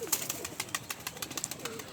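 A pet pigeon, near a ringed female, gives a soft, rhythmic series of low coos, close and quiet, repeating steadily through the short moment.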